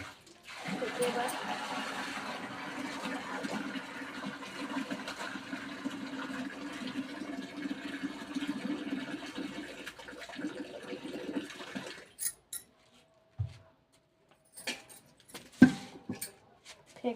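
Water is thrown out in a long, steady splashing pour that runs for about twelve seconds at close range, then stops abruptly, leaving a few scattered knocks and clatters in a quiet rural cattle shed.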